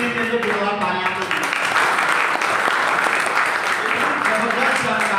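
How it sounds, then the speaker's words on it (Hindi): Loud, sustained applause from an audience at a stage event, thick and even throughout, with voices and music mixed in beneath the clapping. "जोरदार तालियां दो।"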